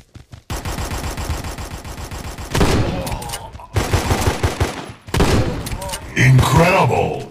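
Gunfire in an online shooting video game: dense rapid bursts of automatic fire, loud and close, broken by short gaps and a few heavier shots near the end.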